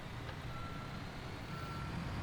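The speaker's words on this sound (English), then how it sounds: "There's a truck backing up here, sir." Construction truck backing up in Construction Simulator, its reversing alarm a faint steady beeping over a low idling engine rumble in the distance.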